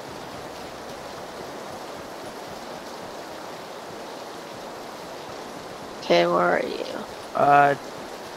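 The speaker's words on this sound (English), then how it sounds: "Stupid rain." Steady rain falls in PlayerUnknown's Battlegrounds, a continuous even hiss that fills the whole stretch, with players briefly talking over it near the end.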